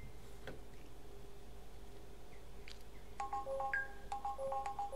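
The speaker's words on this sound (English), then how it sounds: "Oh, my phone's gone off, I'm sorry." A mobile phone ringtone plays as a quiet run of short repeated electronic beeps at varying pitches. A faint background of computer-game sound runs underneath, with no talking.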